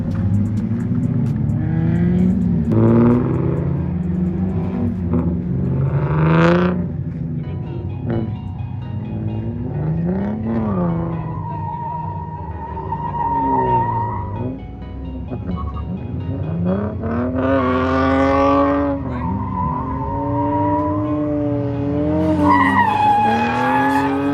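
A Lexus IS300 drifts on a speedway skid pad, its engine revving hard in rising and falling sweeps over continuous tire squeal and skidding, loud and close throughout.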